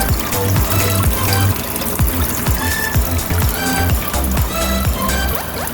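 Steady trickling and gurgling water with rhythmic clicking pulses as a turtle aquarium filter pump draws water through its intake, close and fairly loud.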